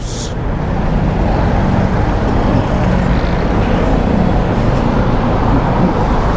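Steady road traffic fills the scene, a continuous close rumble of cars and heavier vehicles with a brief hissing burst near the start, unbroken throughout.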